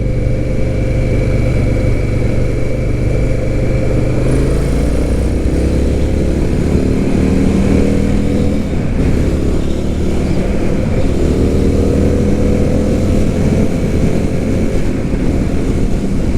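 An Indian FTR 1200 motorcycle rides up an on-ramp, its engine a loud, continuous drone that rises and shifts in pitch as it accelerates through the turn, with wind rush mixed in.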